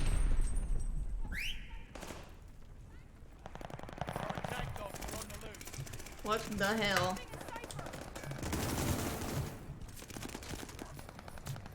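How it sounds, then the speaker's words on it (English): Fireworks going off outside on New Year's Eve, a rapid crackling volley of bangs in the distance heard indoors, with a voice speaking over it and a brief whistle-like rise. "Y'all can't hear the fireworks?"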